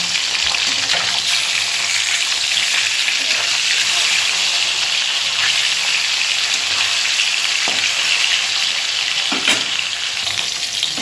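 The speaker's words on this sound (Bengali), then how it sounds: "মাছগুলোকে ভেজে নিই সব" Rohu fish pieces fry in hot oil with a steady, dense sizzle that fills the whole stretch, broken now and then by sharp spits and pops, with nobody talking.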